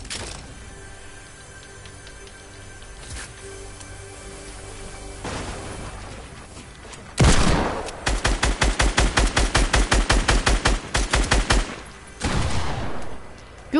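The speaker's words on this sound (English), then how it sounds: "I'm using a heavy shotgun." Heavy shotgun fire in a 1v1 video game match: a loud initial blast followed by a long, rapid string of evenly spaced booming shots, with quieter ambient game sound before it and no talking.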